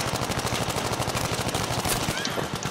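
Rapid gunfire from the video game Battlefield V, a dense continuous rattle of automatic shots, loud and unbroken throughout.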